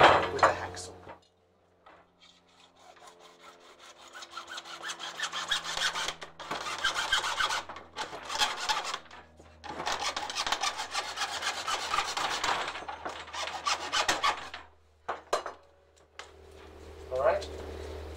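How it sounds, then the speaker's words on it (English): A hacksaw cuts through a part for a solid lift outlet, heard as several bursts of back-and-forth rasping strokes with short pauses between them. Some sounds from handling the workpiece come in between the runs of sawing. "For that, I'm actually just going to cut it with a hacksaw."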